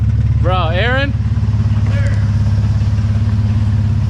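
Nissan VQ V6 exhaust in an S13 chassis burbling with a steady, deep idle beat throughout, loud and close, with a brief whistle-like voice near the start.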